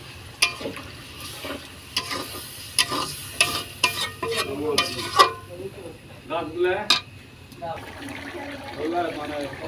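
Water goes into a sizzling potato and pointed gourd curry while the pan is stirred, with scraping clinks and bubbling frying under a voice talking close by.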